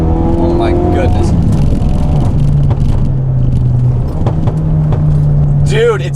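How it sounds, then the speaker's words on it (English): A tuned 450 bhp all-wheel-drive Ford Focus RS engine drones loud and steady through hard acceleration and cornering, with rising tones near the end and a voice talking over the engine. "Tight corner, on throttle, quick brake, a little bit of oversteer right here, a little bit of oversteer, and back on it."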